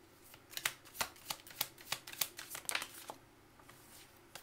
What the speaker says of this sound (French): Je vais tirer 3 cartes.